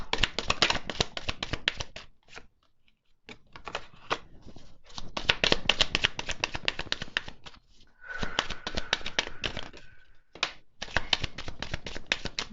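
Tarot cards shuffled and slapped down in quick rapid bursts, close and fairly loud, with a few short pauses between runs of crisp papery riffling.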